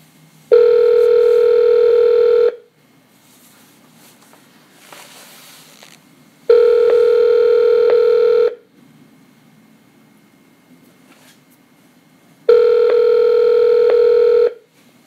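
A telephone line tone sounds while a call is being transferred: three steady, loud two-second tones, evenly spaced about four seconds apart, with quiet line hiss between them and no talking.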